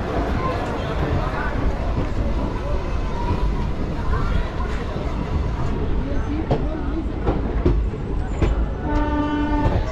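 Train pulling out of Barauni Junction on the Kishanganj-Ajmer Garib Nawaz Express, a loud constant rumble and rattle of the carriages with a horn-like tone near the end, heard from on board.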